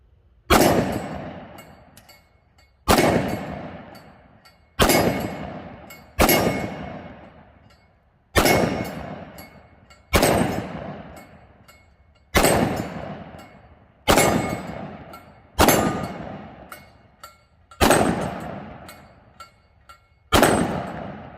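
A 10mm pistol firing 180 grain Freedom Munitions rounds: ten loud, sharp shots at an uneven pace, roughly two seconds apart, each with a ringing decay and no talk.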